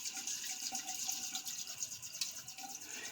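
Tap water running steadily into a sink while a razor is rinsed, a soft continuous gush heard close but quiet, with no talking.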